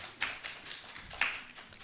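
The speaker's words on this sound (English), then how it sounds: "Yeah, clap them." A small event audience claps sparsely, with a few distinct, moderately close hand claps spread unevenly over a quiet room background.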